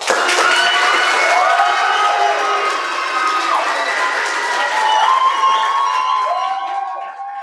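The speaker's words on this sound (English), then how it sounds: "You guys may now applause." A debate finals audience at the Texas Ambassador Great Debate breaks into loud, sustained cheering and clapping that stays steady for several seconds and then eases off slightly at the end, with shouting voices mixed through the crowd noise.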